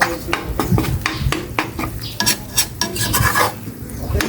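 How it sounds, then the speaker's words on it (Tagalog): Steady sizzling of galunggong fish frying in a pan, with repeated scraping and stirring clatter of a utensil against metal. "Sunod ko na po dito prito yung galunggong."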